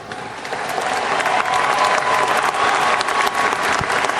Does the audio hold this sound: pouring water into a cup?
no